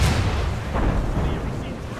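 Ship cannons fire a broadside in the Assassin's Creed Rogue video game: a loud, dense rolling rumble of booms with a sharper blast near the middle, with shouted voices mixed in.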